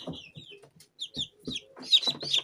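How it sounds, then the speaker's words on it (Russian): Newly hatched chicks cheep in a plastic mechanical incubator on the 21st day of incubation, soft high peeps coming in short scattered bursts, fairly quiet with no talking. "Переношу цыпляток."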